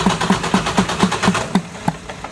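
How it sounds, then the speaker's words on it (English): A 2014 Detroit Diesel DD15 truck engine cranking over with steady, loud rhythmic pulses at close range, turning several times before the last beats fade out; no voices. "Go ahead and start the engine."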